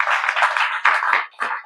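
Audience clapping at a Brahma Kumaris gathering in Panipat, Haryana, a close burst of many hands applauding that briefly thins, swells again, then tapers off.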